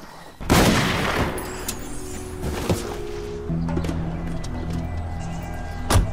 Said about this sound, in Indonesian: Ia mengambil sebuah pistol yang berada di dalam mobil lalu menembak Jeff dan membiarkannya tewas sendirian.